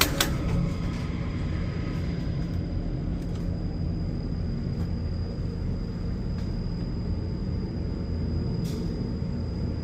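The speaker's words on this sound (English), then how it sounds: "Let's do one more spin on this so I can hear the motor." A 1987 Dover Impulse hydraulic elevator motor runs inside a parking garage, a steady, continuous low rumble and hum with faint clicks near the start and end, no talking.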